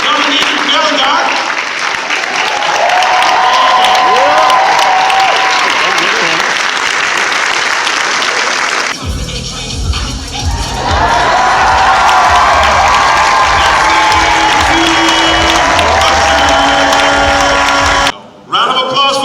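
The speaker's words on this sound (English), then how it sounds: "Round of applause for yourselves" A convention audience at Dragon Con bursts into sustained, loud applause with scattered cheers and shouts, broken by a brief shift in the middle and a short dip near the end, with voices mixed throughout.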